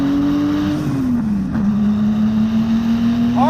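A turbocharged, 420 hp 1982 Porsche 911 pulling hard up through the gears on Mulholland Drive, the loud close engine drone holding a steady pitch, dropping briefly at a shift, then climbing again, with no talking.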